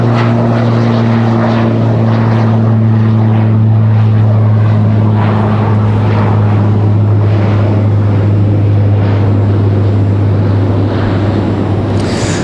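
A Pilatus turboprop departs, its propeller drone loud and steady throughout with strong low tonal hum and a broad engine roar, close and unbroken with no talk.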